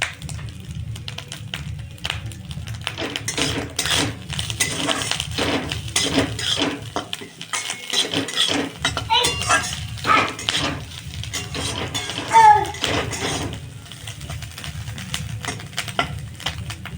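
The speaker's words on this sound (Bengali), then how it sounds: "এটা ভালো করে নাড়বো।" Prawns with turmeric in a little raw mustard oil are stirred in a pan: repeated scraping and clinking of a spoon against metal over a soft sizzle, close and fairly busy.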